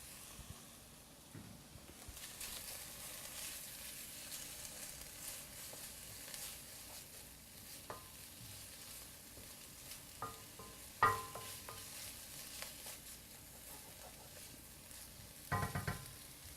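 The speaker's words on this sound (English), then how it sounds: "we're ready to add our garlic and marjoram" Garlic and marjoram sizzle softly in a soup pot, a low, steady frying hiss with occasional stirring clinks and scrapes.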